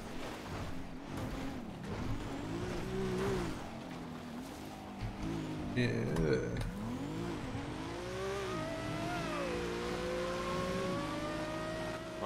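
A car drives in PUBG Mobile, its engine droning and revving up and down continuously, with a brief clatter partway through, moderately loud and steady throughout.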